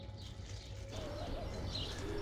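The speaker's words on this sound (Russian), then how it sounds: "в котором красиво поют птицы." Birds calling in a shady monastery park in the desert oasis near the Jordan, with soft pigeon-like coos and faint chirps over a low, steady ambient hum.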